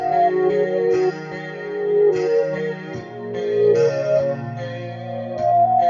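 Synth preset run through Fruity Flanger and Fruity Chorus in FL Studio, heard alone as a shimmering, wavering sustained chord pad with shifting notes over a steady low bass line, loud and close throughout.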